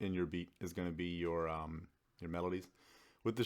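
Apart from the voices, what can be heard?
No distinct noise like a dog, phone or traffic.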